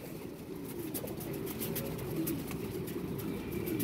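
Pigeons coo softly in a loft, with low, repeated throaty calls set against steady background noise and no one speaking.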